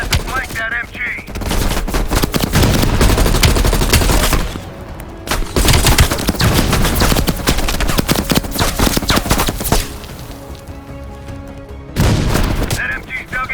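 Sustained machine gun fire rattles in Call of Duty Cold War, loud dense bursts with heavy booms mixed in, briefly pausing and resuming, while voices talk over the battle.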